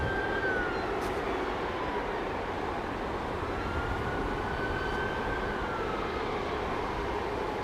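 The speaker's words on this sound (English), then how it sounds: "Daryl Nichols, that 380 overhead lufty going from Washington to Munich" A Lufthansa Airbus A380 bound from Washington to Munich flies overhead near an airport runway, producing a steady distant broadband roar with a faint, slowly gliding engine whine throughout.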